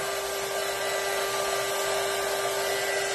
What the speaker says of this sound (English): this thing is a heat gun